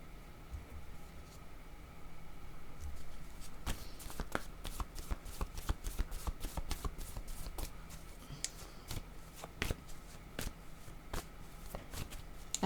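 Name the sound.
cards being shuffled for a card reading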